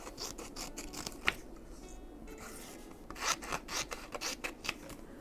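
Scissors cut glossy paper up close in short, scratchy snips and rustles, with irregular bursts and brief pauses and no voices.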